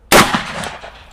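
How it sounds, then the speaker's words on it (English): A single sharp .44 Magnum revolver shot fired at watermelons, a loud close crack followed by a decaying outdoor echo and faint debris sounds. "44 Magnum versus watermelons."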